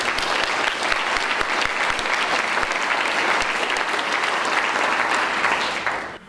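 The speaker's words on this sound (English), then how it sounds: "So I would like to give them a round of applause and say thank you to all of them." Audience at a conference opening address gives a warm round of applause, a dense, steady patter of many hands with a few sharper claps standing out, fading quickly at the end.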